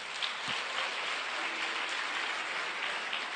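A church congregation applauds in a steady, distant patter of many hands, soft and even throughout with no voices over it.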